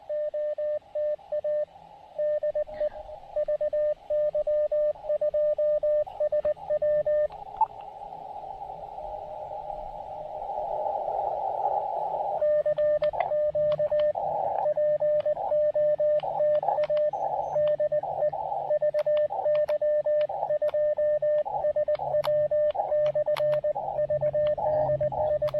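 Morse code CQ call sent as CW on an Elecraft KX2 radio at a park activation, a clear keyed tone in rhythmic dits and dahs, joined later by a competing steady tone and static.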